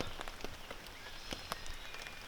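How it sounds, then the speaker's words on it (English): Steady rain falls on a backpacking campsite in a forest, with a dense, even patter and scattered sharper drops striking close by, and no voices. "it's gonna keep raining"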